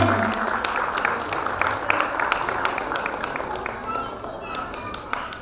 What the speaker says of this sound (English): Give applause for Sai.